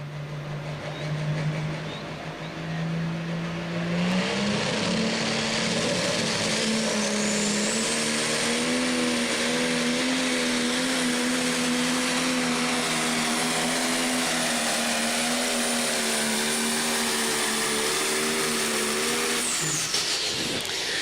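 John Deere tractor on the American Regulator pulling tractor at a county fair tractor pull, its engine climbing to a loud, sustained roar that holds steady for long seconds before cutting off near the end.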